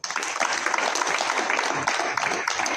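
Dense, continuous applause from an assembled audience at an extraordinary council of ministers in a palace hall, steady and loud throughout with no break.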